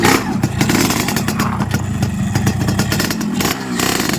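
A motorcycle engine runs loud and close, steady throughout with slight revving and a clattery mechanical edge, no voices over it.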